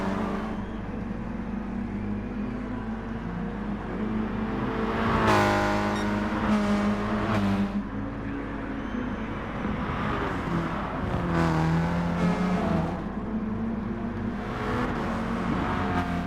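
Race cars lapping Bathurst, with engines rising and falling in pitch as several cars rev through corners and sweep past close by, in overlapping waves of loud engine roar.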